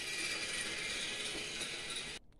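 A Redcat Everest 10 RC crawler on its stock motor drives across an indoor floor, giving a steady close whine with gear chatter for about two seconds before stopping abruptly.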